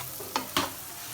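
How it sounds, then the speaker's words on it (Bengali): Red chili powder, turmeric and salt are stirred together in a pan for a gagot fish dish, giving two quick close scrapes over a soft background hiss. "এবার সবগুলো উপকরণ আমি একত্রে মিক্সড করে নিব।"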